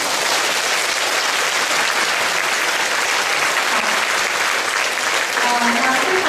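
Loud sustained applause from a university lecture audience after a talk on the Cold War in Asia, a thick even wash of many hands clapping steadily throughout with no break.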